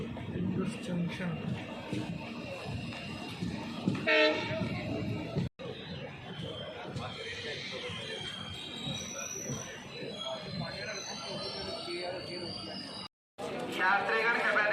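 The Kota–Hisar Express train rumbles and clatters into Ringas Junction station, with a horn sounding and people talking nearby over the steady rail noise.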